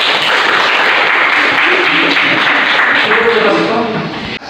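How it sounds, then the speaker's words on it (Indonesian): Classroom applause from students during a lesson, a steady dense clatter of many hands clapping for several seconds, with voices mixed in before it fades at the end. "mari kita berikan aplaus."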